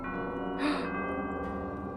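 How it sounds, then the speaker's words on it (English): A single soft doorbell chime from the video game Nancy Drew: The Captive Curse rings out and lingers with a sustained, bell-like tone, accompanied by a brief breathy sound. "I want my doorbell to sound like that."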